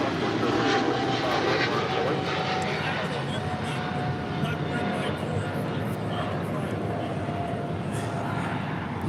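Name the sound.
American Airlines Boeing 777-300ER taking off at LAX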